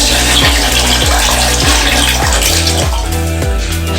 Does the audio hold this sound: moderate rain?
no